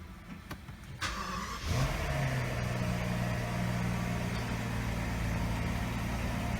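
A 2017 Rolls Royce Ghost Series II with a 6.6-liter V12 starts with a brief starter crank, then catches and settles into a smooth, steady idle hum.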